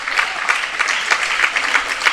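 A crowd at a racketlon match breaks into cheering and clapping, a short, dense burst of applause that stays fairly loud throughout.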